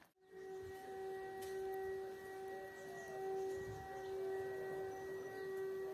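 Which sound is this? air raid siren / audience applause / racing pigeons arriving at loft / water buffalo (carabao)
air raid siren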